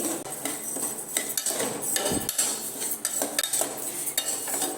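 Rice and moong dal being dry-roasted for a jaggery pongal, with a spoon scraping and clinking against the pan in quick irregular strokes, close and fairly loud throughout.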